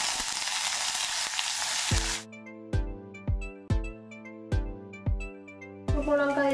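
Sliced bitter gourd, potato and pumpkin hit hot oil with black cumin in a pan, giving a loud, close sizzle for about two seconds before it gives way to a series of evenly spaced plucked musical notes.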